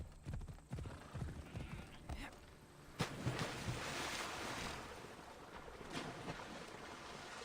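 A horse wades through water in the video game Assassin's Creed Odyssey, with soft splashing, sloshing and hoof-like thuds over a steady wash of waves, moderately quiet throughout.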